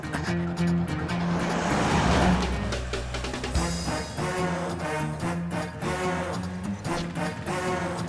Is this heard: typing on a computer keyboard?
no